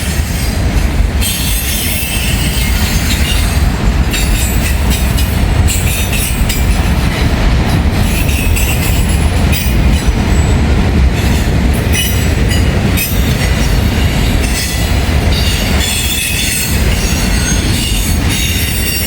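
A train led by a locomotive rolling over a rail diamond crossing in a small Indiana town, producing a loud, continuous rumble of wheels with clattering joints and squealing metal, close by and sustained throughout.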